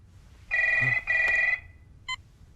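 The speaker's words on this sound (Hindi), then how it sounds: "अबे फोन बज रहा है." A telephone rings in two long electronic trills, a short burst following after a pause, loud and close with no talk over it.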